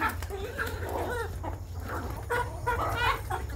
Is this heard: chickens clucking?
yes